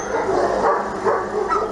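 Dogs kept in cages bark and yip in quick overlapping bursts, a close, crowded chorus with a few whimpering notes.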